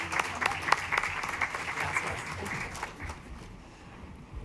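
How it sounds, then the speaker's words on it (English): An audience at a school board meeting applauds its educators, a dense wash of many hands clapping that holds steady, then thins and fades toward the end. "Please join me in giving a heartfelt round of applause to our outstanding educators."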